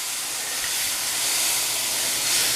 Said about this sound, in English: Now you're slowly going to whisk in your milk.